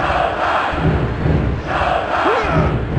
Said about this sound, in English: Check out this crowd! They're on their feet!